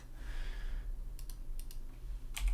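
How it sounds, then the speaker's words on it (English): A computer keyboard being typed on, with a few short bursts of light clicks that stay faint over a steady low hum, with no voice. "I bet if I just type... well, let's see. If I type..."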